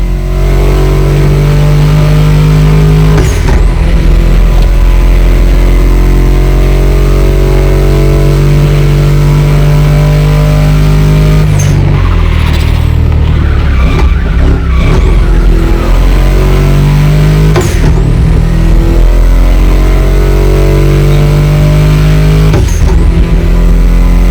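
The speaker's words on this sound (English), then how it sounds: "Meshes well with the sound of the engines" A Mustang GT engine roars loud and close, its deep rumble revving up and dropping back several times as it accelerates through gears.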